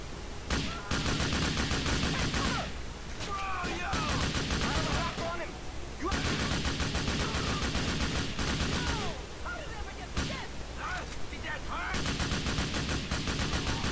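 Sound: gunfire in the video game Grand Theft Auto IV

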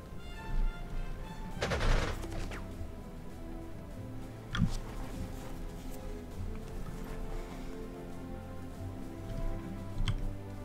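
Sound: artillery fire in the video game Panzer Corps 2

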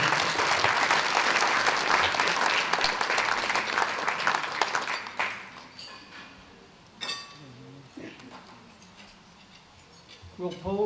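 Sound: audience applause for award recipient

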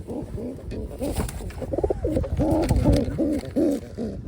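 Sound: pigeon cooing

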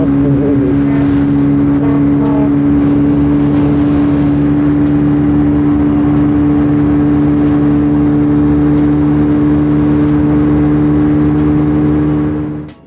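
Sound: 200cc motorcycle engine revving

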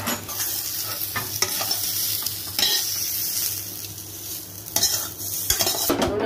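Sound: stirring salted turmeric-coated dried mango pieces in hot pan

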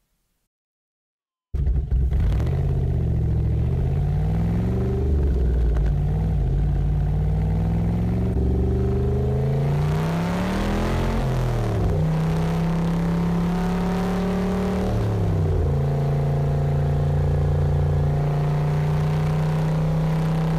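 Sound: Superlite SLC car exhaust while accelerating

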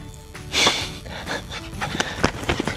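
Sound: dog panting

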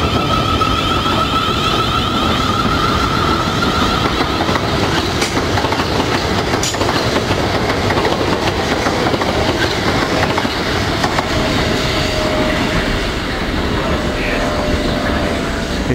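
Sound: passing trains

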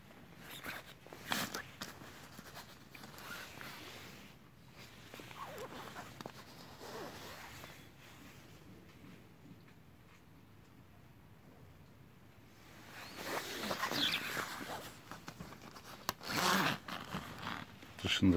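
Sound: zipper of a hooded winter coat being worked

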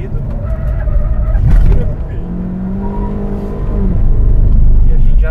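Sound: Ford EcoSport Titanium accelerating on a race lap

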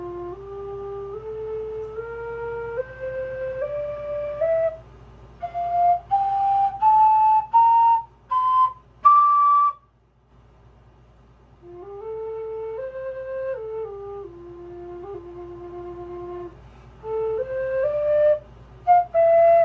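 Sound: low F PVC whistle demonstration

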